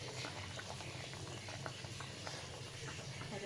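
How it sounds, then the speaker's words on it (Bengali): Hilsa fish curry bubbles in a pot with a steady, soft burble and faint hiss of simmering liquid, close but quiet and continuous, with no talking. "এখানে টকবক করে ইলিশ মাছ ফুটছে"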